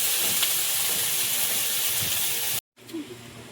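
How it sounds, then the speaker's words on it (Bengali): Fish sizzling and frying in hot oil in a pan, a steady dense hiss that runs continuously, breaks off abruptly near the end, then resumes more faintly. "এই মাছ খুব বেশি একদম কড়কড়ে করে ভাজা যাবে না, একটু নরম থাকবে"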